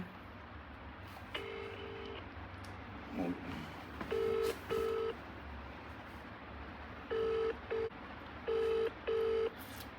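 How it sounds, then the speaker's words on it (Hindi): An outgoing phone call rings through a handset: steady paired ringback tones repeat at regular intervals against a faint hiss, with brief dialing beeps before them and no voice answering. "चलिए कॉल करते हैं भाई के पास में।"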